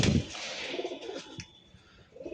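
A pair of pigeons, high-flyer Madrasi and Giribaz breed birds kept for sale at a home loft, give soft low coos in a short burst at the start, then quieter murmuring cooing under light background noise.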